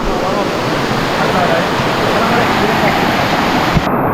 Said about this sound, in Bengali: আপাতত অনেক বেশি বৃষ্টি।